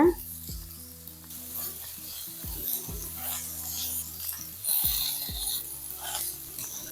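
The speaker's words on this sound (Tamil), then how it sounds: "இந்த மாதிரி அழுத்தி விடுங்க சிக்கனை நல்லா அழுத்தி விடும் போது நல்லா வெந்துடும்" Chicken pieces sizzle steadily in a hot pan and are pressed down repeatedly, with several soft thuds and scraping touches heard close over the constant frying hiss.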